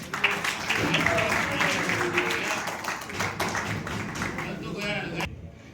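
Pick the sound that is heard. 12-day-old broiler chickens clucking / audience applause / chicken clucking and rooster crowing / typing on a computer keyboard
audience applause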